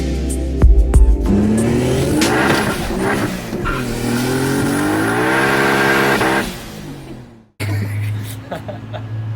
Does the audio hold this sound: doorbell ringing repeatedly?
no